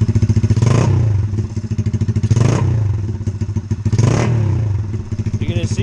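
A Honda XR70 motorcycle engine idles with a steady putter and surges in three throttle revs, each rising and falling back, close and loud throughout.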